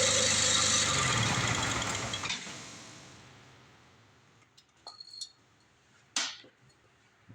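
A snow blower engine, sprayed with WD-40 and on choke, rumbles briefly and then dies away, leaving near silence broken by a few faint metallic clanks and knocks.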